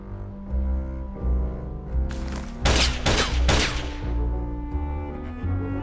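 Gunfire in the PC adventure game Voodoo Detective: a loud, dense burst of several rapid shots over a sustained game music bed, then fading back to the music alone.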